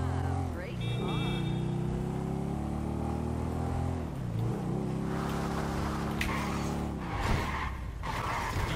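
Motorcycle engine in GTA 5, a steady mid-pitched drone that rises and drops through several gear-like revs, loud and continuous, with game noise building toward the end.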